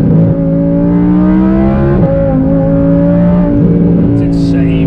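An Audi R8 with a loud 600 bhp build revving through downshifts: a steady, close, harmonic engine drone whose pitch shifts in steps as the gears drop, loud throughout.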